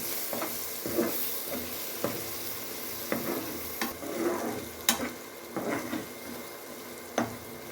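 Cut mutton brain fries in thick masala in a pan while being stirred, loud close sizzling broken by regular scraping strokes of a spoon roughly every second.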